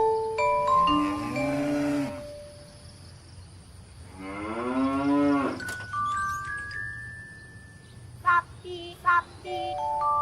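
Large cattle moo in two long, drawn-out calls a few seconds apart, loud and close, with tinkling bell-like tones and short bright chimes after them and no talk.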